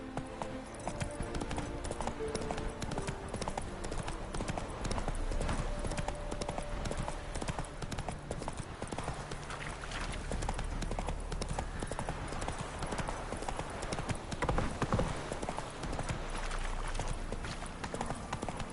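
Roach the horse's hooves in The Witcher 3 video game, a brisk, continuous clip-clop of trotting hooves, close and clear over ambient game sound, with a brief voice.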